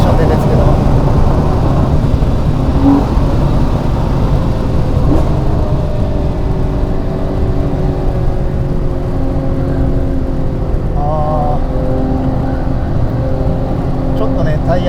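Ferrari Purosangue engine at full throttle on a winding road, a loud continuous roar close by with shifting pitch as it accelerates through bends, wind rush underneath, and someone talks over it.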